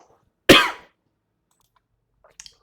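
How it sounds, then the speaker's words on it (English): A single sharp, loud cough bursts out and fades within a fraction of a second, followed by quiet and a couple of faint clicks. "excuse me for coughing and choking there."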